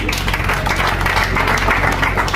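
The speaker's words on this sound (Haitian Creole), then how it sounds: "sous vos applaudissements, mesdames et messieurs" Audience applause at a Haitian Creole book day event, a dense, steady wash of many hands clapping close and loud throughout, with no voices standing out.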